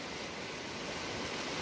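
A stream at the foot of Anamas mountain rushes steadily toward Beyşehir Lake, a dense, even wash of flowing water heard close and alone.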